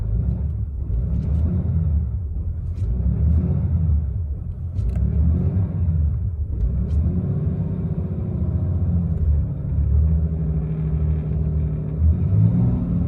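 A stuck truck's engine revs and rumbles steadily with traction control switched off, a low, loud drone that swells slightly under throttle and carries no talk.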